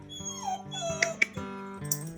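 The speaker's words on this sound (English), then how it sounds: "she was whining and making all this noise from just excitement." A lost dog, just found and reunited with her family, whines and whimpers with excitement: a run of high, wavering whines and short yips, close and fairly loud, with no talking.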